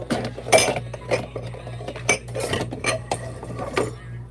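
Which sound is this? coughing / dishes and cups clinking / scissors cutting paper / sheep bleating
dishes and cups clinking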